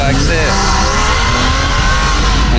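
BMW 240i race cars battling on a track, with loud engine roar and rising and falling revs sweeping past continuously while someone speaks over the noise.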